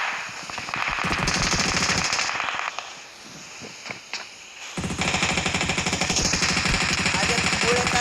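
Automatic gunfire in the BGMI mobile battle game comes in loud, rapid bursts, with a short lull of scattered shots before another long sustained volley.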